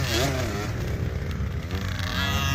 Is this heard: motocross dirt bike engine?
yes